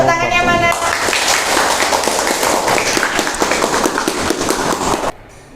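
A classroom of students applauds together, dense, loud clapping that runs steadily for several seconds and then stops abruptly.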